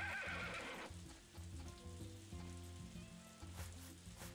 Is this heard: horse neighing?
yes